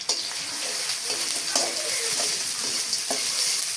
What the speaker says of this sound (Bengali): পেঁয়াজ দিলাম, তেজপাতা দিলাম, গরম মশলা দিলাম, দিয়ে এবার এগুলো আমি ভেজে নেব